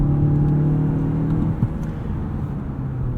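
A 2018 Mazda6 Signature engine pulls hard under acceleration, a steady close rumble and whir that builds with a slight pitch shift near the middle, heard alone from inside the cabin.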